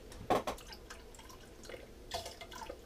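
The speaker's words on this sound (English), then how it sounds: "Just adding some coloring to make sure you can see the water" Food coloring drips into a glass of water: a couple of close, soft liquid drips early on, then a brief splashy patter near the end, all quiet with no talk.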